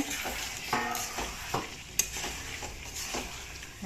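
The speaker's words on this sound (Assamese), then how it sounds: "মাংস হৈ আছে" Meat sizzling gently in a pan with intermittent stirring scrapes and a sharp metallic clink, close and moderately quiet.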